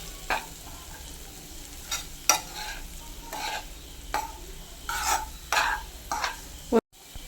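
Potato fry masala sizzles in a pan while a spoon stirs it in repeated scraping strokes, a soft steady frying hiss underneath, close and fairly quiet, ending in a brief knock.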